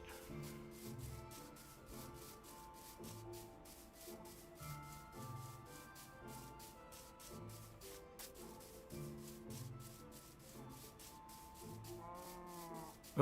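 Repeated cow moos from the video game Minecraft come in a regular rhythm of short low calls, along with soft scraping and clicking game sounds at a quiet, steady level, and no one talks.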